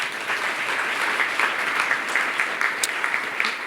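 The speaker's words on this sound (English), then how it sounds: "Can we give them a big round of applause?" Steady, dense audience applause fills a business power breakfast panel event on artificial intelligence, an even wash of many hands clapping at close range with no talk over it.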